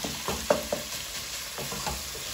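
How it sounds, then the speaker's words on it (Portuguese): Salt cod for bacalhau espiritual is stirred and broken apart in a pan, with a soft sizzle under a few sharp utensil scrapes and taps near the start. "Vamos mexer. E vamos também fazer com que ele fique um bocadinho mais desfiado."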